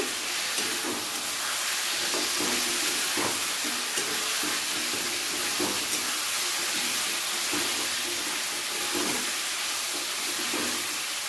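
Ground chilli, ginger and spice paste fries in a pan with a steady, close hiss and sizzle, broken by soft scraping stirs at irregular intervals throughout.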